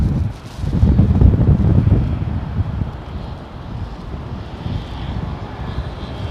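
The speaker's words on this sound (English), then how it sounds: "Air Canada in the Trash Panda livery." Air Canada airliner in Trash Panda livery landing at London Heathrow in a gusty crosswind, a low broad engine rumble buffeted by heavy wind noise that swells early and then settles, steady and fairly distant.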